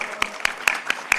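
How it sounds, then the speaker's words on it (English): Audience applause at a university convocation ceremony, heard as a handful of sharp, spaced claps about every quarter second over a light background murmur, sparse rather than a full ovation. "may I request you to join me in a round of applause to congratulate all the award winners"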